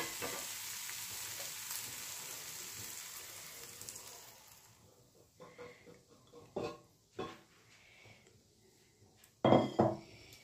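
Beaten egg mixture seasoned with pepper powder hits a pan and fries with a hiss that fades, then spoon and pan clinks and a few sharp scraping knocks punctuate the quieter sizzle.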